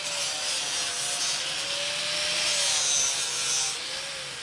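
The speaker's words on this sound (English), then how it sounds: "let's do the grinders." An angle grinder works steadily against metal to knock off cutting dross, a continuous harsh rasping grind with a faint whining tone, close and fairly loud for the whole stretch, no voices.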